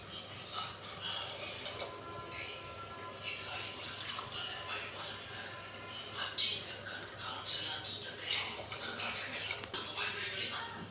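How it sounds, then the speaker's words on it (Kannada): Water pours into a pot holding rice for tomato bath, a steady broadband splashing and trickling that runs continuously at close range with no talk over it. "2 ಲೋಟ ಅಕ್ಕಿಗೆ 4 ಲೋಟ ನೀರು ಸೇರಿಸ್ಕೊಳ್ಳೋಣ"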